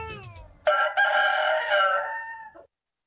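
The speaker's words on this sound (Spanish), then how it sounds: "Mi mascota Lino el gallo con botas nos acompaña a comprar sus galletas." A rooster crows once, loud and close, a long drawn-out call that ends abruptly, with some faint clucking just before it.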